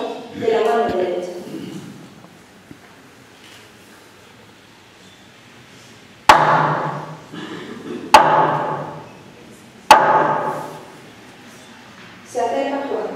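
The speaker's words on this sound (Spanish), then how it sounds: "Le acerca a José de Arimatea un martillo para sacar el clavo de la mano derecha." A hammer strikes a nail in wood during a Holy Week passion reenactment, three loud, sharp knocks spaced about two seconds apart, with a voice speaking before and between them.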